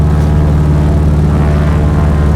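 Propeller aircraft engine at full takeoff power in a flight simulator game, a loud, steady droning hum with a strong low tone, constant and alone with no talking.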